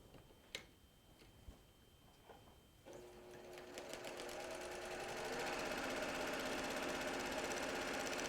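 A sewing machine sits quiet through a few clicks, then starts stitching at about three seconds and speeds up into a steady, fast, close whir with rapid ticking.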